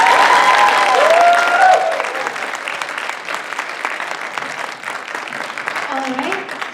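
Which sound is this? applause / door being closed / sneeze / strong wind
applause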